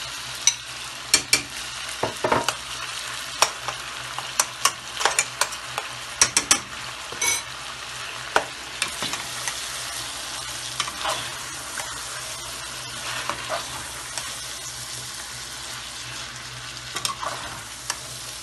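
Onions fry in a pan for white karahi chicken, giving a steady sizzle with scattered sharp clicks and scrapes from stirring. It is close-up and continuous, with no voices.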